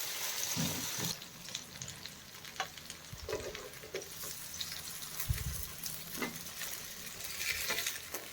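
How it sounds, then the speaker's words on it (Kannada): Marinated fish fries on a hot tava with a soft, low sizzle, broken by occasional scrapes and light clatters, all fairly quiet and close. "ಈಗ ತವಾ ಫ್ರೈ ಮಾಡ್ತೀನಿ ನಾನು."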